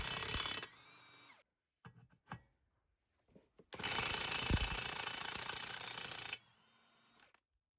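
A Milwaukee impact wrench works on lug nuts with a loud hammering rattle. A long burst of about two and a half seconds follows a few short taps, and then the tool drops into a softer, lower-speed whir as the nuts come loose.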